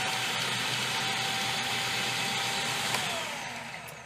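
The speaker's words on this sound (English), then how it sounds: "you notice how really quickly it actually chopped up that garlic" Cuisinart FP-8SV food processor running as it chops garlic, a steady loud whirring motor drone with a rattling, grinding texture that holds evenly before fading slightly near the end; no talking.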